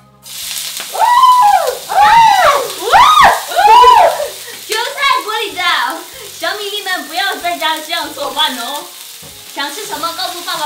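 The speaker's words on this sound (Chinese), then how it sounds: "煎我的韭菜小生蚝" Chives and small oysters sizzle as they pan-fry in hot oil, a continuous close crackle with stirring, while adults and children talk over it throughout.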